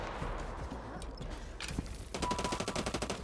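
Rapid gunfire bursts from the online PvPvE video game Hawked, sharp repeated shots building into a fast automatic volley near the end, fairly quiet overall with faint game ambience.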